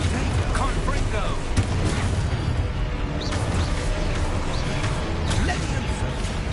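Blasting spell explosions in the video game Hogwarts Legacy, loud dense bursts and booms piling up continuously under shouted spell names throughout.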